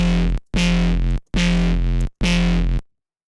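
A bright, buzzy synth chord made in Serum for drum and bass, with a ping pong delay effect, plays three sustained stabs after a short opening hit, each cut off by brief silences, loud and alone.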